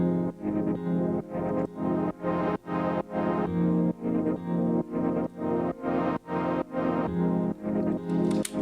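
A minor 7 sus4 chord on a synth for a house track, struck repeatedly in a choppy, pulsing rhythm with bright sustained harmonics, loud and alone.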